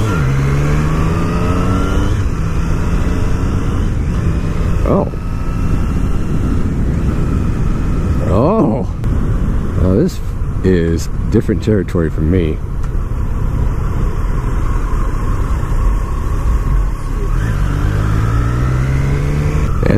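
A 2019 Triumph Street Triple R motorcycle engine drones loud and close while riding, rising and falling with gear changes and revs, with passing traffic around and the rider speaking briefly over it.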